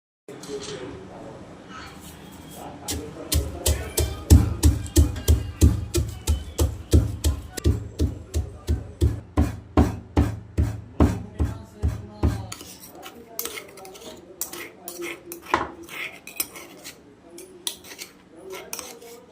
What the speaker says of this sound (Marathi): गार झाल्यावर बारीक करून घ्यायचं